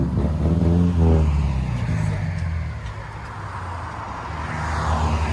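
2017 Subaru Crosstrek 2.0 turbo with a Dynomax Race Bullet exhaust revs up loudly, the engine note rising over the first two seconds, then easing into a lower rumble before building again toward the end.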